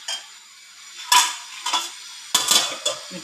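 Meal maker (soya chunk) gravy is stirred in a pot on a low flame, producing a few separate scraping and clinking bursts of a spoon against the pot, with quiet gaps between them.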